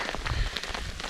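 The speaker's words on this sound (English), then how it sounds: "Just started spitting little bits of hail." Little bits of hail patter on an umbrella on the Ice Lakes Trail in the Colorado mountains, a quick, irregular, light tapping that stays close and fairly soft.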